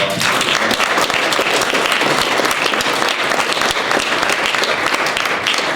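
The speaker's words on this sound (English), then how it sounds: "A big round of applause for" Loud, close, sustained applause from an audience after a chef's talk on sustainable food culture, an even wall of clapping throughout.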